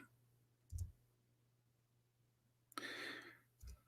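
A computer keyboard that is malfunctioning, typing the wrong characters, gives a few isolated close clicks and thumps plus one longer clattering burst, over a steady low electrical hum with no talking.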